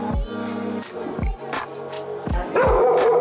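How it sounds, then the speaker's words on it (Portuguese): A neighbouring dog barks several times in a poor Caracas district, loud separated woofs with a yelp near the end, heard from below through an aluminium ceiling. "O cachorro que tá latindo é dos vizinhos de baixo."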